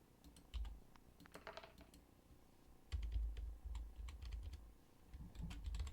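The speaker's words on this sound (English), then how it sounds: "Come on, let me type." Typing on a computer keyboard, scattered bursts of close clicking keystrokes with brief pauses between runs, no voices.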